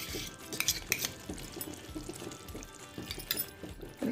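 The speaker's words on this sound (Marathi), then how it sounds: "तर आपण हे असं हलवून मिक्स करून घ्यायचं आहे" Spoon stirring methi matar malai with fresh cream in a pan, close and wet, with repeated soft clinks and swishes of utensil against metal in an irregular rhythm.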